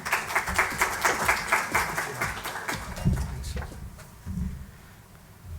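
Audience at a corporate law seminar applauds the opening speaker with a steady round of clapping that thins out and fades over about five seconds, with some low room noise at the end.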